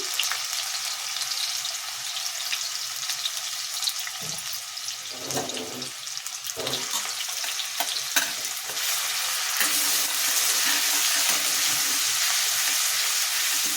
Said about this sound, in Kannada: ಈರುಳ್ಳಿ ಕಲರ್ ಚೇಂಜ್ ಆಗಬೇಕು, ಅಲ್ಲಿ ತನಕ ಫ್ರೈ ಮಾಡ್ಕೊಳ್ಳಿ